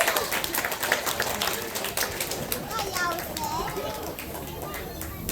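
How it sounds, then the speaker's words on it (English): Dense applause with scattered cheers and children's voices fills the space at a stockman show at Paradise Country, Gold Coast, steady and lively throughout. "I think that deserves a big round of applause."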